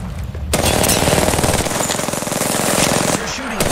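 Rapid automatic gunfire in the Apex Legends video game rattles out in a dense, loud burst lasting about three seconds, close and continuous before cutting off.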